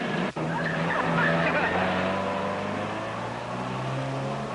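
A jeep engine runs and revs with a whining, shifting pitch, loud and close after a brief click at the start.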